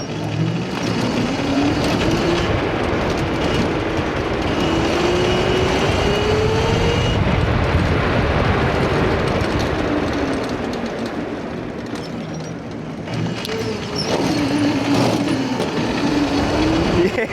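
A car in a video game drives fast and slides through drifts, its engine a loud, sustained drone whose pitch rises and falls through the turns for the whole stretch, with occasional faint talk underneath.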